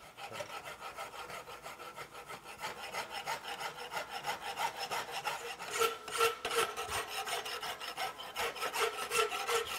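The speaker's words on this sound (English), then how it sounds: "Cleaning it up after filing on it" A farrier rasps a tooled and fullered horseshoe with caulk and wedge, a steady run of close, rapid scraping strokes that rises slightly in intensity near the end, with no talk.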